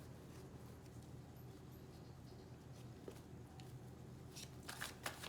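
A deck of tarot cards being shuffled up close, a steady soft riffling patter that runs throughout, ending in a few sharper slaps and snaps as the cards settle.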